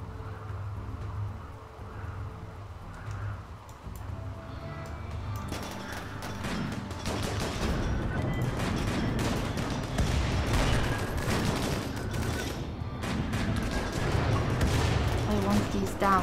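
Pirates in the video game RimWorld fire a rapid fusillade of gunshots. The bursts start sparse and grow into dense, clattering volleys that fill the last ten seconds.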